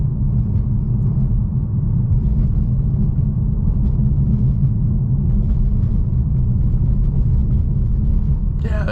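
A 2018 Mercedes-AMG E63S drives over rough road bumps, giving a steady low cabin rumble with faint thumps from the suspension throughout.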